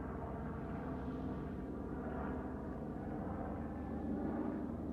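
A jet aircraft passes overhead as a faint, steady, broad roar that swells slightly near the end, heard alone without voices.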